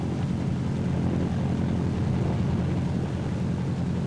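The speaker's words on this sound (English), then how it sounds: "Next is the engine run-up and prop check, one engine at a time." A World War II B-26 bomber's propeller engine roars steadily during a run-up, one engine at a time, a loud, continuous, dense rumble with no talk.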